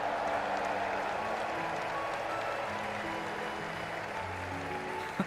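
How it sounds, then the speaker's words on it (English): Steady crowd applause in the video game Trails in the Sky at a tournament finale fills the clip, a dense even patter of many hands clapping at moderate volume, with no pauses. "let us shower these victors with thunderous applause"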